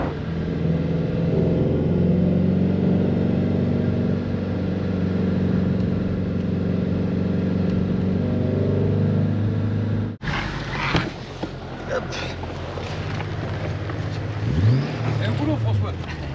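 A Shelby GT350 cruises on a road trip behind a GT500, heard from inside as a steady low engine drone that shifts character partway through, with voices at times.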